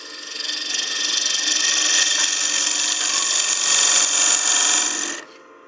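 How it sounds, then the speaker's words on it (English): A smaller bowl gouge scrapes across a wooden planter bowl spinning on a lathe, cutting from the center outward in a steady, close, hissing shave that stops abruptly at the end. "And I'll actually switch to a smaller bowl gouge and come from the center towards the outside."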